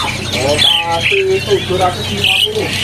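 Imported Asian multicoloured parrots at a bird market, squawking loudly and repeatedly at close range in a run of harsh, piercing calls.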